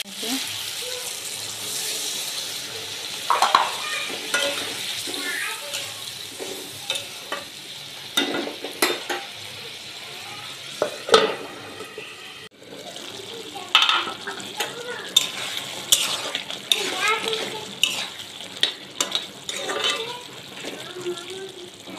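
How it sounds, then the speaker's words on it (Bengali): Taro root curry being stir-fried with a little water in a pan, with intermittent scraping and stirring, sizzling and watery bubbling that rise and fall in bursts, and a voice speaking faintly at times. "একটু পানি দিয়ে কষাবো।"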